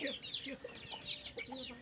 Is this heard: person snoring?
no